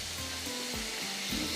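A wooden spoon stirring baked tikka biryani in a pan, soft scraping and shuffling over a steady frying sizzle, close and continuous, with no voices.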